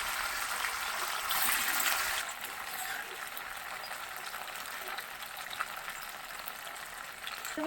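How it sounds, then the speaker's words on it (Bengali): Paneer cubes fry in a pan with a soft, continuous sizzle and crackle, slightly louder at first and then settling into a gentle, steady hiss. "এবার আমি পনিরগুলো ভেজে নেব।"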